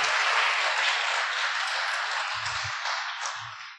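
A church congregation applauds in a steady, dense wash of clapping that carries on throughout, with a few low thumps underneath.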